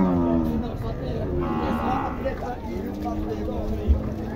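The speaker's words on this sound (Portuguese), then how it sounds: "Tá vendo? As vacas ali." Cattle mooing in the background at a cattle market in Tabira, Pernambuco, Brazil, beneath a man's fast, continuous Portuguese auction-style talking, with steady crowd noise throughout.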